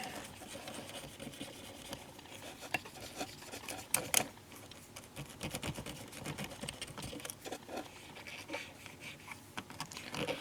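Scrubbing dried-up grease off a part of a Sony TC-238 8-track recorder, a quiet, close, uneven rasping and rubbing with a few sharper scrapes and clicks, no talking.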